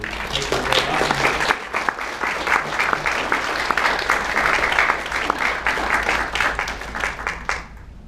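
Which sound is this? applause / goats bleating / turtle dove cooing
applause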